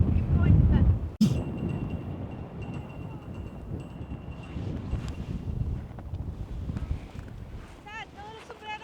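Wind gusting across the open grounds of Old Fort Niagara, buffeting the microphone with a hard blast at the start and then a steady rush, while people talk in the background.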